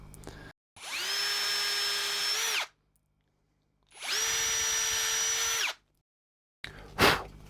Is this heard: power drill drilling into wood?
yes